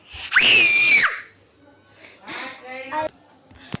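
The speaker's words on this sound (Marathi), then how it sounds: "एन्जॉय करतो आणि जोरजोरात ओरडतोय" A child on a ride lets out one loud, high, sustained scream, followed by quieter voices and chatter nearby.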